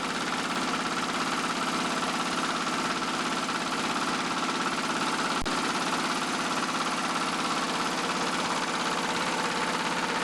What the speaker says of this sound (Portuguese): nós vamos ver o motor, que tem um barulho um pouco, relativamente um pouco grande, em virtude do tamanho do barco